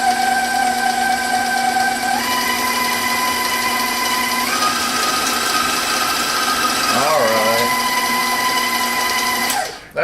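An electric mixer churns meatloaf mixture with garlic beneath a splatter shield, giving a steady loud motor whine that shifts pitch a few times before cutting off abruptly at the end.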